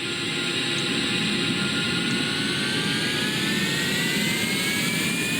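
The Draco engines of a VTOL spaceplane in Kerbal Space Program roar at takeoff, a loud, steady jet-like thrust with a rising whine that holds constant throughout.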